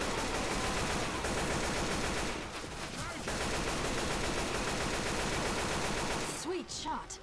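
Dense, continuous gunfire in the zombie shooter Left 4 Dead 2 rattles without a break, with brief dips in intensity and some faint voices underneath.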